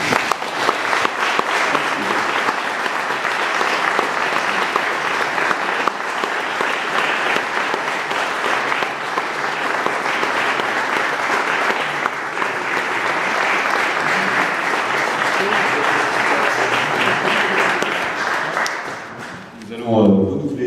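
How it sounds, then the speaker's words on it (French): Sustained applause from an audience at an art exhibition opening in Barentin, dense steady clapping lasting about twenty seconds before fading, with a voice briefly heard at the very end. "Il faut l'applaudir."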